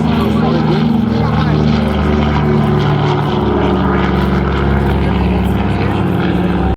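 A South African Airways airliner passes at a 2015 airshow, its engines a loud, steady roar that fills the whole stretch without easing, with faint crowd voices mixed underneath.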